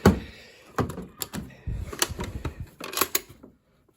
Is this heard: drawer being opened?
yes